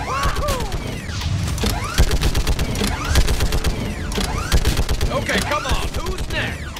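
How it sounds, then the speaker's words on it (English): A mounted gun turret fires steadily in Mass Effect 3, rapid bursts of gunfire mixed with mechanical clanks and impact crashes, loud and dense throughout, with game voices underneath. "we are now allowed to take control of a mounted gun turret, a weapon that just hopelessly outclasses the husks below"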